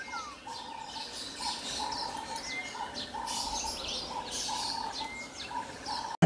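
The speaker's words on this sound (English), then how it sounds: "And this is the scarlet macaw." A scarlet macaw calls at a wildlife center, giving repeated short tonal chirps and calls in a steady series over a busy background of other bird chatter.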